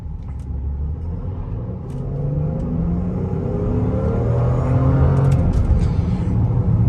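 A 2013 BMW X5 twin turbo with all-wheel drive is driving, heard as a loud, continuous low rumble of engine and road noise inside the car. The engine note rises gradually as it gains speed.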